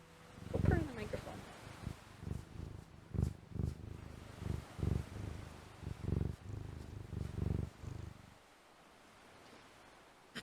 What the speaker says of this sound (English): Look at that little purry cat. Go purr in the microphone.